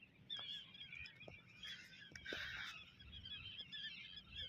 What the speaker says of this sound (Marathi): जबरदस्त पक्ष्यांचा आवाज